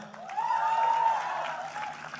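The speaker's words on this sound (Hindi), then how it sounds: "जरा मुंह में फंसाओ और ताली बजाओ एक बार जोरदार" A studio audience at a Bigg Boss OTT Season 3 event claps loudly and steadily, with a brief whistle rising over the applause.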